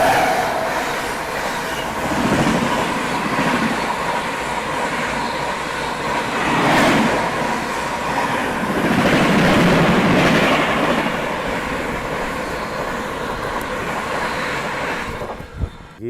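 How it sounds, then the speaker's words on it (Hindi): A passenger train rolls past a railway station on the Patna to Hazrat Nizamuddin route, a loud, steady rumble of wheels and carriages with rhythmic clatter that swells and fades over many seconds, with no talking. "और ये कौन सी ट्रेन आ रही है?"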